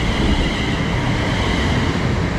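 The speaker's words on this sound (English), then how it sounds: "arriving now is our train, the 12:38 service to Birmingham New Street. It is unfortunately a 350-2" Class 350 electric multiple unit rolling into a station platform on a West Coast Main Line branch, a steady loud rumble of wheels and carriages running continuously with no voices.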